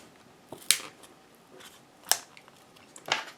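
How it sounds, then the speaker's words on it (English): A knife cuts open the plastic packaging of a Kingston DataTraveler Exodia 64GB USB flash drive, giving three sharp crisp snips or cracks at spaced intervals amid quiet rustling, close and distinct. "You can use a knife like I am, or you could use scissors, I assume,"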